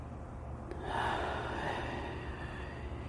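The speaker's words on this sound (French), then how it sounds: "Et vous prenez une respiration." During a guided meditation, a person draws one soft, slow deep breath in, a quiet airy inhale rising briefly and then fading, with no talking over it.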